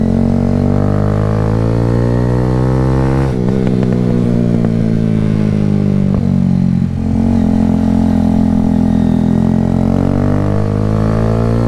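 A Kawasaki Z125 stunt-build motorcycle being ridden, its small engine droning steadily and loud close up, with a burst of revving and clatter midway before settling back to a steady hum.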